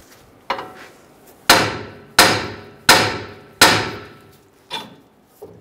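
A hammer taps a front-end suspension part on a 2011-2018 Ram 1500 pickup to break it loose, seven sharp metallic strikes at uneven intervals, the middle four loudest, ringing briefly in a quiet garage.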